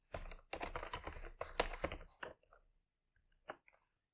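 Quick bursts of keystrokes on a computer keyboard while typing code, close and clicky, with a short pause and then a couple of final taps.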